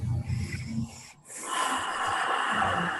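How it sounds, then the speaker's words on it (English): A deep breath drawn in during a relaxation exercise, an audible airy inhale following some breathy sound, heard close and alone without talking. "close your eyes and take a deep breath in"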